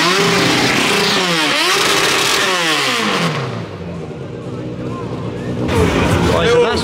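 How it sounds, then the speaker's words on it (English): A 600cc Yamaha motorcycle engine, a complete bike mounted in the back of a van, is fired up and revved hard in rising and falling sweeps, eases off to a lower idle, then roars up again near the end. "that's what a 600cc Yamaha engine sounds like"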